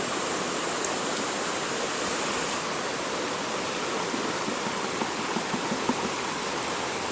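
River water flows steadily in a broad, continuous rush, close and fairly loud, with no voices over it.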